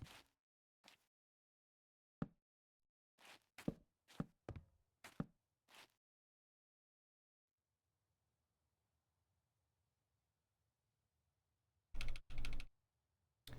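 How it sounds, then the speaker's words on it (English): Computer keyboard keys clack in short irregular clusters during a stream, crisp and close, separated by near silence, followed by a quick final burst of rapid typing. "keyboard ASMR, anybody?"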